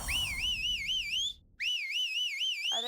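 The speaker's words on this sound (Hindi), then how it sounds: "सीटी बजाना बंद करेगा?" A person whistles a loud, wavering, warbling tune in a Hindi TV drama scene, in two sustained bursts split by a brief break, with no talk over it.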